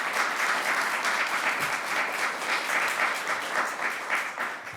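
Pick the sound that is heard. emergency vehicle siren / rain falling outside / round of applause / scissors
round of applause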